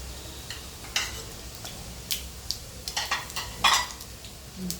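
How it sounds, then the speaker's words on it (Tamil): Mustard seeds splutter and pop in hot oil, a scatter of sharp, irregular crackles and ticks over a faint steady background, with no voices. "கடுகு பொரியட்டும்."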